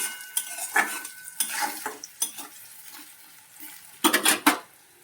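Onion and garlic fry in a pan, a light sizzle under irregular scrapes and clinks of a spatula against the pan, with a cluster of louder stirring strokes near the end, close and without talk.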